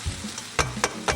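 A spoon stirs a meat-free red lentil bolognaise sauce in a pan, giving a low sizzle broken by three or four short, sharp scraping strokes close by.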